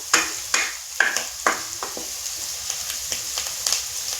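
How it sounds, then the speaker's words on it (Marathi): Turmeric being sautéed with browned onion in a pan for a Kolhapuri-style chicken masala, giving a steady close sizzle broken by several sharp scraping stirs of a spoon at roughly half-second intervals. "हळद थोडीशी परतून घेऊया"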